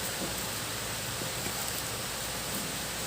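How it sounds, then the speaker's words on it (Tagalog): Steady rain falls outdoors in a uniform, soft hiss of dense drops with no distinct rhythm, faint and continuous with no talk. "Tapos ngayon, umuulan na ulit."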